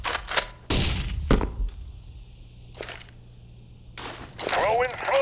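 A flashbang grenade goes off in CS:GO during a competitive match, heard as a couple of sharp bright bursts with a lingering high ringing tone, mixed with other gunfire and game noise.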